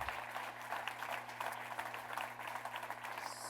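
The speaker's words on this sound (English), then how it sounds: "Let's give Julie Heath another big round of applause" Audience applause at an economics center's annual awards evening, a steady wash of clapping that runs softly and evenly from start to finish, heard at a distance beneath a low constant hum.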